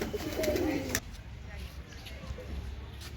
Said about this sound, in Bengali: এখানে মিষ্টি কবুতরের আওয়াজ মনোমুগ্ধকর